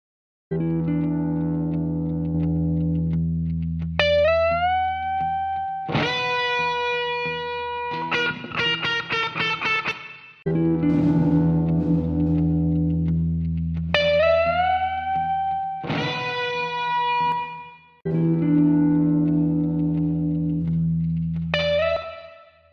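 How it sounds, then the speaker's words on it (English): Electric guitar sent through a free VST effects plugin, playing sustained chords and single bent notes with heavy modulated, distorted and reverberant processing, loud and continuous with short gaps between phrases. "Let's use it quickly here on this electric guitar sound that I have."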